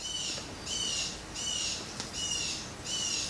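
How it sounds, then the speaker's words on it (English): A bird sings outside an open window, repeating a high, clear whistled phrase four or five times in a steady rhythm, somewhat distant and soft over a faint room hiss, with no talking. "I do also have my window open so you can hear that bird."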